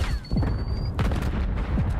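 Call of Duty battle royale action in Verdansk: a grenade explosion booms amid bursts of gunfire, several sharp cracks and thuds in quick, uneven succession at moderate loudness.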